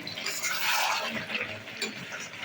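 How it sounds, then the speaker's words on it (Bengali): A little hot water poured into meat being cooked down in a pan, a close hiss and sizzle with bubbling water sounds over a couple of seconds. "কষানো হয়ে গেছে, অল্প একটু জল দেবো"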